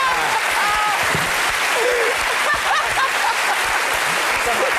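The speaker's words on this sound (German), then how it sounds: "Sie können klatschen." Studio audience at a German comedy panel show breaking into loud, sustained applause, dense clapping throughout with a few voices and whoops rising over it.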